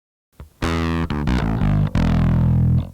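Bass guitar driven through a Boss ODB-3 bass overdrive pedal, several thick distorted notes and chords played loudly and up close, sustained with brief gaps between them.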